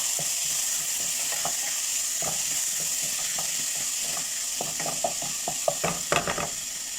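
Soaked lentils dropped into a hot pot for lentil soup, a loud constant frying sizzle with a scatter of small clicks and scrapes from the spoon that grow denser toward the end.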